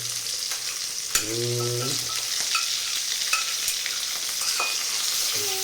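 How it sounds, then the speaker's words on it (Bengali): Pieces of fish fry in hot oil in a pan, giving a constant close sizzle broken by scraping stirs and light clinks of a utensil, with no one talking. "মাছ ভাজা প্রায় কমপ্লিট হতে চলছে"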